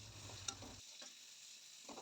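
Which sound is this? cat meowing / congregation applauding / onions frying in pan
onions frying in pan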